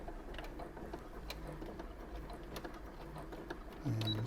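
Domestic sewing machine fitted with a compensating foot, stitching at speed with a steady fast mechanical whir and ticking, moderately quiet and close, with no talk.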